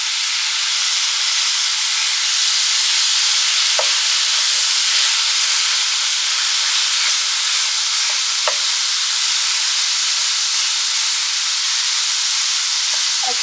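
Ground beef frying in an electric skillet, a loud, even, continuous sizzle up close with a few faint scraping clicks from stirring, no voices.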